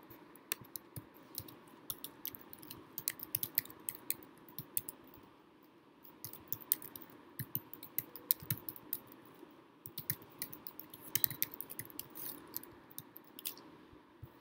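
Keys clatter on a computer keyboard in quick irregular bursts of close, crisp clicks, with brief pauses between runs of typing and a faint room hum underneath.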